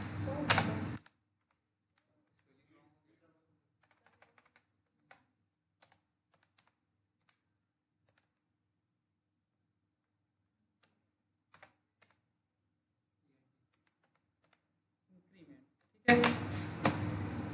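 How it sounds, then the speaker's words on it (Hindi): Sparse, faint taps on a computer keyboard while entering a spreadsheet formula, with scattered single keystrokes in a quiet room between short bursts of talking at the start and end. "तो यहाँ पास हम लोग टाइप करके ला सकते हैं उसको"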